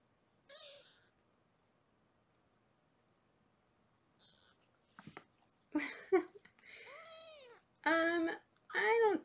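Foster kittens meow in a few short, harmonic cries, faint at first and then louder and closer near the end, with quiet gaps between the calls.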